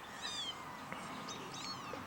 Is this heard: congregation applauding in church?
no